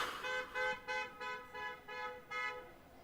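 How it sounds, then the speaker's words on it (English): Repeated car horn toots, about six short even blasts spaced roughly half a second apart, moderately loud and passing by outdoors with no talking. "Keep on driving by, honking in your clown car."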